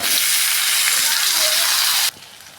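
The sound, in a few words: tomatoes sautéing with ginger garlic paste for eggplant thokku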